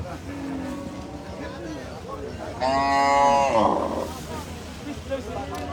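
Several cattle moo loudly at the Hazratpur cattle market in Bangladesh, one long drawn-out bellow rising above a noisy crowd of people talking in the background.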